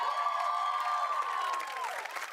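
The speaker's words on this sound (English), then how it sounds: "let's give a round of applause to people like Mindy Kaling" Studio audience applause and cheering for a podcast, a dense wash of clapping lasting the whole moment, with a steady held tone running through it that fades near the end.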